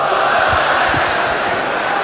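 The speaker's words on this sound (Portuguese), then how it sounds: "Torcida do São Paulo deita e rola. Vai gritando olé." São Paulo football fans fill a stadium with a dense, continuous crowd roar during a 1999 state championship match against Palmeiras, a steady massed chant of olé with no gaps across the whole stretch.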